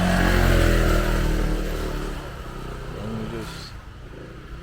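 A moped on Koh Tao island passes close by with a loud engine drone that fades away after a couple of seconds, leaving quieter road ambience and a brief spoken word.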